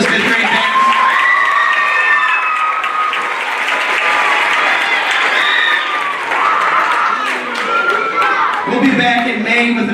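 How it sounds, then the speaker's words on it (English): A school audience claps and cheers for a 5th grade band at a holiday concert, dense steady applause with children's whoops and shouts rising over it, loud and filling the hall throughout. "Do a big round of applause for this 5th grade band."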